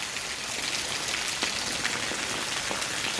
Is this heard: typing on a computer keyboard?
no